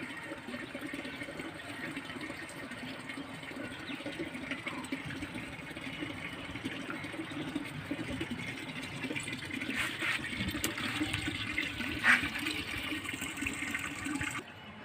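Water poured by hand onto dried-out garden plants such as pomegranate and bean plants, a steady soft splashing wash running throughout with a brief louder splash near the end, no talking.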